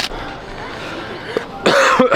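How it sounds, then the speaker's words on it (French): A person in a training gym coughs, a few soft coughs first and then a loud harsh burst near the end, recorded up close with no talking. "C'est à cause de moi qui tousse"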